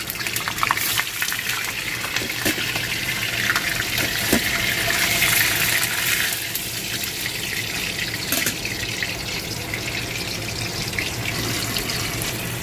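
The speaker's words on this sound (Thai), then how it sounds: "น้ำมันร้อนแล้วนะครับผมเราก็จะใส่ เต้าหู้ลงไปทอดนะครับ" Tofu frying in hot oil gives a steady, loud, close hiss that holds evenly for the whole stretch with faint crackles on top and no talking.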